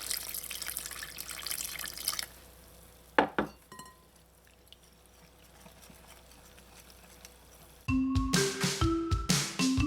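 Water runs from a tap in a steady stream into a jalebi dough mixture, then stops; a few clinks of glass or dishes follow near the end.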